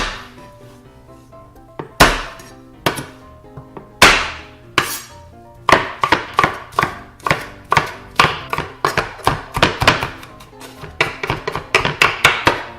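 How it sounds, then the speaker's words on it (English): Garlic minced with a knife on a cutting board for Korean spicy chicken stew, a few separate sharp chops at first, then a fast, steady run of close, crisp knocks. "lastly, I'm gonna mince the garlic."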